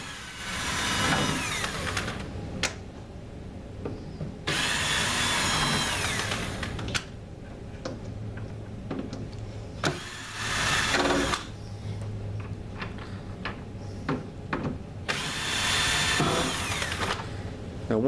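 Power drill backing gold screws out of an ES1000 unit, four separate whirring bursts of one to two seconds each, close and loud, with clicks and handling noises between them.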